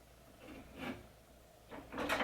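Two soft, brief scraping slides as the handlebars of a Stages spin bike are pushed forward and back on a stiff rail, faint and close in a quiet room.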